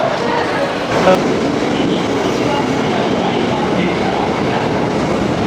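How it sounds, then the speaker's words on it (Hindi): A metro train arriving in Nara, Japan rumbles along the tracks, a steady loud rail noise with a faint screech and murmuring voices in the background. "यहीं अपनी नारा वाली मेट्रो आएगी"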